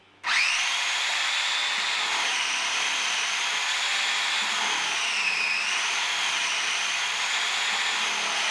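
A food processor shredding carrots kicks in abruptly and runs as a loud, steady whirring motor drone, its pitch dipping briefly partway through as the load shifts, continuing to the end with no talking.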